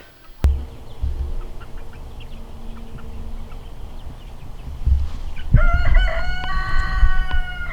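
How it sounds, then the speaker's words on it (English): Chickens and a rooster in a garden: a sharp bang opens, then low clucking and murmuring, before a loud, close rooster crow rings out near the end. "Got a couple frosty baby chicks out here."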